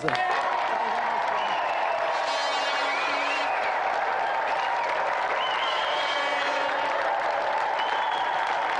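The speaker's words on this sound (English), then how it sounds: "let's give another round of applause for our special guest tonight, Gordon Burns!" A large television studio audience applauding steadily, dense clapping that holds at an even level throughout, with faint cheers mixed in.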